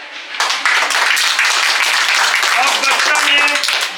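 Children clap together at an acting workshop, steady loud applause filling the room after a short start, with voices faintly mixed in.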